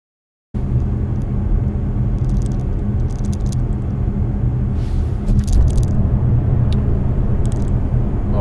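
A BYD Seal electric car cruises on a highway, a steady low road and wind rumble from inside the cabin with occasional faint rattles and clicks, no talking.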